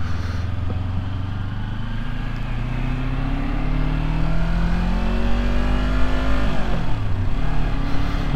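A Kawasaki Ninja 250 motorcycle ridden through heavy snow: the engine note climbs steadily in pitch under acceleration, then drops sharply at a gear change before pulling again, loud and close throughout with no talking.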